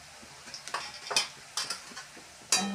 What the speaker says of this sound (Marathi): ह्याला चांगलं हलवून घेते